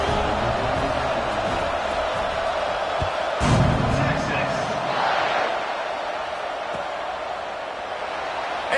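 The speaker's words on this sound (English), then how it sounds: "this crowd is feeling themselves after that last drive" Stadium crowd in the College Football 26 game, a constant roar of cheering that briefly surges, under a commentator's voice.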